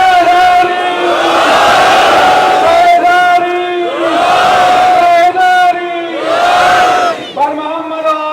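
A large crowd at an Arbaeen majlis in Nishtar Park, Karachi, raises their hands and shouts religious slogans in unison. They give three loud, sustained, ringing chants, close and powerful, one after another.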